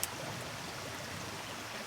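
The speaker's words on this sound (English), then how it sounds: "and the sound of the river going by." A river flows steadily past a wild campsite, a soft, even rushing and trickling wash that stays faint and continuous throughout, with no voices.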